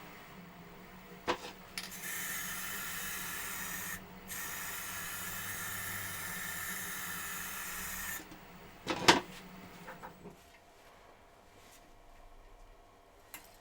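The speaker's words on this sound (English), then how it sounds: "Right, just a little bit of spray," Two bursts of aerosol spray hissing nearby, a long steady spray then a second one, with a few clicks and taps around them.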